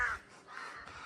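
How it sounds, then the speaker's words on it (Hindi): Large crows cawing at a mountain base camp on a trek in Munsyari, a loud harsh call at the start followed by softer, rougher caws, close by and with no talk. "तो गाइज यहाँ बड़े बड़े कौवे देखो,"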